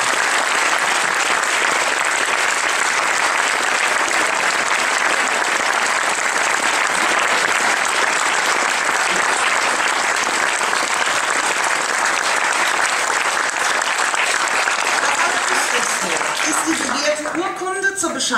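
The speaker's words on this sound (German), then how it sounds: "Und ich bitte einen kräftigen Applaus." A large audience at a science slam in Marburg breaks into sustained, loud applause that fills the room, a dense continuous wash of clapping with voices faintly mixed in near the end.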